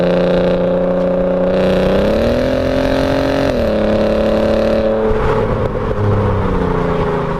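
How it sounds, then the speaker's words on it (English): A 3.2 V6 engine in a Mk2 Audi TT drones loudly and steadily, its pitch stepping up twice as the revs climb, with a throaty rasp underneath. "you do get a kind of little nice lovely V6 rasp to it"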